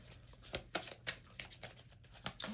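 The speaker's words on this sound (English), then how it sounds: "While I'm shuffling this up" A self-awareness card deck being shuffled by hand, a quiet, steady run of soft riffling snaps and flutters repeating close up, with no voice.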